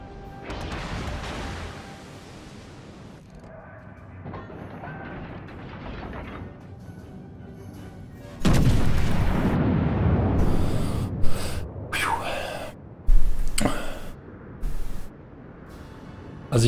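Heavy naval guns boom in the video game World of Warships, with several loud, deep blasts and crashing impacts after a quieter stretch of rumbling, irregularly spaced.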